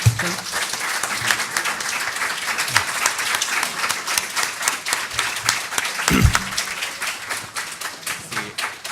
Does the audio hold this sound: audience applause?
yes